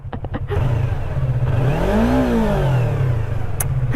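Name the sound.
motorcycle engine revving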